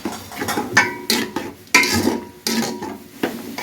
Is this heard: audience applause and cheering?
no